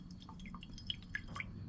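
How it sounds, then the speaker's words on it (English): Naphtha is poured in with wax for a benzoate whistle mix, giving a string of small scattered drips and liquid plinks over a faint low hum, with a few brighter splashes near the end. "Go ahead and pour some in."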